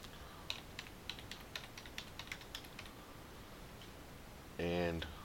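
Keys tapped on a computer keyboard while entering an IP address, a quick run of light clicks through the first three seconds, then a short burst of a different louder sound near the end.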